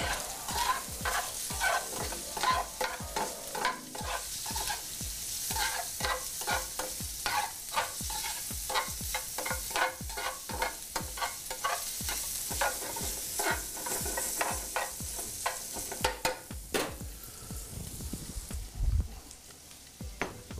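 Sausage frying in a pan at a catering kitchen, giving a steady, close crackling sizzle with dense rapid pops and stirring scrapes throughout, no talk.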